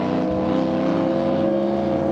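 Race boat powered by a NASCAR-style Toyota Camry engine warming up at an unlimited displacement club day on a lake, a steady loud engine drone with dense harmonics, sustained without break and no talk.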